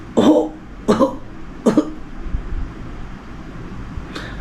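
Three sharp coughs from a person with a pulmonary embolism, in quick succession, close and fairly loud, followed by quiet rustling and a faint breathy sound at the end.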